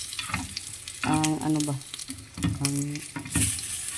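Dried tuyo fish fries in a little oil with a crackling sizzle, partly masked by someone talking over it in short bursts.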